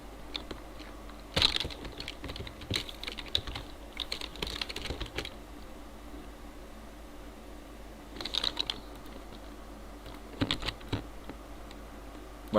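Computer keyboard typing in scattered bursts of rapid key clicks with long quiet gaps between them, moderately close over a faint background hum, no speech.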